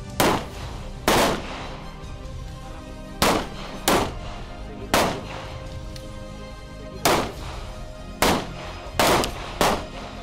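Rifle shots crack one at a time at a military shooting practice in Ecuador, sharp loud reports at irregular intervals, each with a short decaying tail, with no talking.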